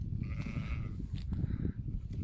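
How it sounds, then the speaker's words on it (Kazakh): A large flock of sheep, over three hundred head, bleats with scattered overlapping calls at moderate distance above a steady low rumble of wind or movement. "Маңыраған маңырап жатыр"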